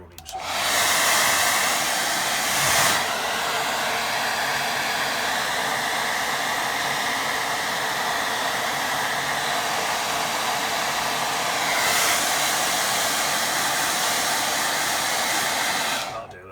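Hair dryer blowing steadily over a watercolour painting, a loud continuous rushing roar lasting the whole stretch with slight shifts in tone as it moves.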